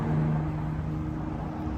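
A sport motorcycle engine runs during a group ride, a steady, close drone with a constant low hum and no clear revving or talk.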